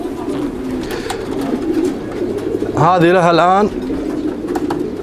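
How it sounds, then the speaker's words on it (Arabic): A long-distance homing pigeon coos once in a brief wavering call close by, heard over steady background murmur while someone talks before and after it. "هذه الحمامة بنت الإمبراطورة"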